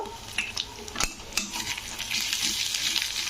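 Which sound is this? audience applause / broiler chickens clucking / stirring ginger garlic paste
stirring ginger garlic paste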